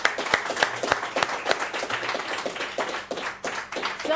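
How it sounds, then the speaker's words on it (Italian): A studio audience on a TV show claps for a young band, distinct individual hand claps in a loose rhythm, close and fairly loud, with no voices over them. "Rifacciamo l'applauso, proviamo,"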